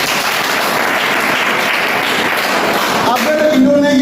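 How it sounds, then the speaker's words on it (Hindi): Loud, dense crowd clapping for Madan Guru ji fills the whole stretch, steady and close, with a brief whistle-like tone near the end. "मदन गुरु जी के लिए तालियां चाहूंगा जोरदार।"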